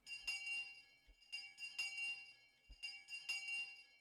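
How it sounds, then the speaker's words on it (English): A school bell rings in the video game Higurashi: When They Cry, with bright metallic chime strikes repeating in evenly spaced pairs over a quiet background. "I heard the ring of the bell declaring the end of lunch break."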